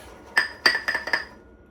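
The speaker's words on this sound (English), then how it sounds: "Sorry for the clanking of the bowl." A bowl clanks several times in quick succession, five bright, close glassy clinks over about a second, then quiet.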